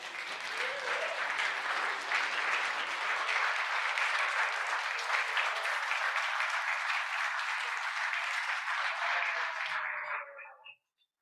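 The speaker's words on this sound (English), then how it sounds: "let's give them a big round of applause" A congregation at a worship service applauds its speakers in a long, even round of clapping that holds steady at full strength, then cuts off quickly near the end.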